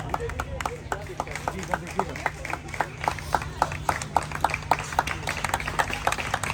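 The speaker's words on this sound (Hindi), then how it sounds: "वह तालियां जबरदस्त बजाई है" An audience claps together in a steady, fast rhythm, a dense run of hand claps carrying on for several seconds over a low background hum.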